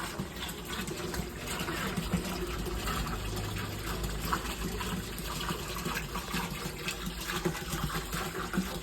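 White, black and red molly fish are poured with their water from a bag into an aquarium, making a soft, continuous gushing trickle that stays fairly faint throughout.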